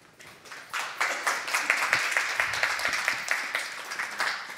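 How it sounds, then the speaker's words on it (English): Audience applause at a nutrition research webinar, a modest group clapping steadily after a presentation, with distinct individual claps rising quickly then holding at a moderate level. "Now, this applause I heard."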